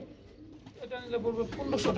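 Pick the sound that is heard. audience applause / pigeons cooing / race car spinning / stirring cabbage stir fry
pigeons cooing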